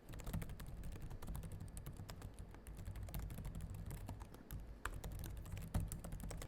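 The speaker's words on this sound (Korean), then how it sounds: "키보드는 스틸 시리즈 키보드가 들어갔는데요. 부드럽게 잘 눌리고" Fingers type on the SteelSeries keyboard of an MSI Vector GP66 laptop, giving soft, quiet, rapid key clicks in a continuous close-up patter with no voices.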